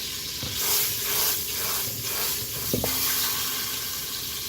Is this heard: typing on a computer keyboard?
no